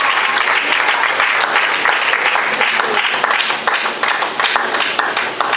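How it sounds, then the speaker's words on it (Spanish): Sustained applause fills a church congregation, steady and loud throughout with dense clapping and no talk over it. "Denle un aplauso a Jesús."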